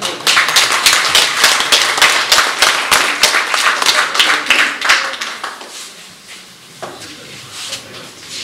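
Crowd applause at an angling sports olympiad awards ceremony: loud, rhythmic clapping from many hands for about five seconds, then thinning out to a few scattered claps and quiet room noise.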